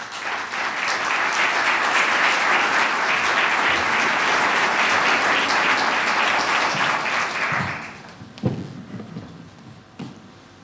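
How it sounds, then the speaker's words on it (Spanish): Loud, sustained applause from a university audience, steady for several seconds and then fading out, followed by a few scattered claps and light noises. "Lo recibimos con un aplauso, por favor."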